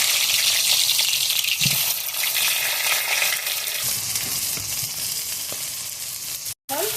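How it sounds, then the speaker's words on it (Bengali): Hot oil in a kadai fries pointed gourd for a chicken curry. A loud, continuous hissing sizzle with light spatter fills the whole stretch, broken by one brief dropout near the end. "পটল ভাজার জন্য কড়াইতে তেল দিয়ে দিচ্ছি"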